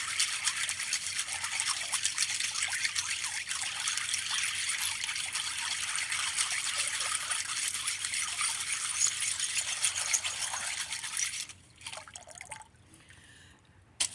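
Tumbled rocks rinsed and scrubbed under running water after a first-stage tumble: a steady loud hiss of flowing water with scrubbing, cutting off near the end to quieter drips and handling.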